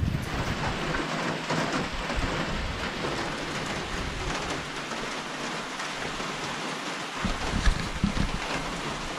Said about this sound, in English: We've got rain, and rain.